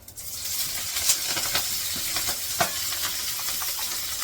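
A spoonful of cumin seeds sizzles in about one and a half ladles of hot oil for a pea and potato curry, a steady close hiss with small crackles and pops throughout.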